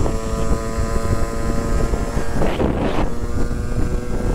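Sherco 50cc motorcycle ride past a school, the small engine droning steadily at close range with a rising surge as the rider speeds up, all under heavy wind buffeting with no talk.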